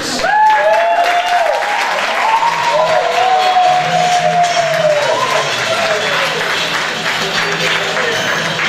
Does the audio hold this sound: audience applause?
yes